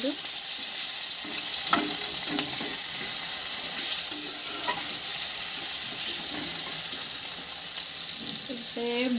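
Tomatoes sizzle and fry in a pan of Odia fish curry (macha jhola) seasoned with turmeric, a steady broad hiss with a few soft stirring scrapes throughout, close and fairly loud.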